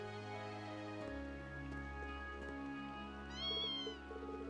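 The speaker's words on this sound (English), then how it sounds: "Missing kitten." In the Trails of Cold Steel II video game, a missing kitten gives a short, faint, high meow near the end, set against a steady musical background drone.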